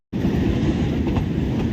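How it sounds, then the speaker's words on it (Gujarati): A train arriving and running, a loud, close, steady rumble with rhythmic wheel clatter that starts abruptly and continues without talk. "ચલો ટ્રેન આવી ગઈ છે."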